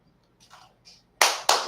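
Two sharp hand claps ring out in quick succession as a cue, loud and close after a few soft rustles and faint background noises.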